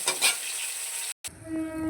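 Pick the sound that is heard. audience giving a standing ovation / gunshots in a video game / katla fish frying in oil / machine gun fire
katla fish frying in oil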